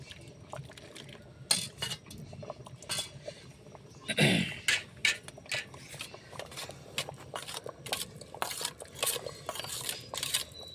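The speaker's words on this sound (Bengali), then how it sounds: "সুন্দর করে হলুদের গুঁড়োটা গুলিয়ে নিব।" A spoon stirs turmeric powder into water in a bowl, producing quick repeated clinks and taps against the bowl with light liquid swishing, close and moderately quiet.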